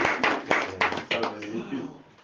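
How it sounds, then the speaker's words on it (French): Applause in a church congregation in Cameroon after a Bible reading, a few scattered claps in an uneven rhythm that thins out, mixed with voices talking. "Acclamons d'abord pour la parole."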